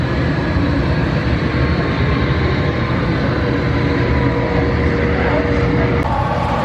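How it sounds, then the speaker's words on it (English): Miniature model train rolling past a tiny replica of Hamilton, Canada, a steady close rumble and clatter filling the scene under dense indoor crowd murmur. "here comes this other train"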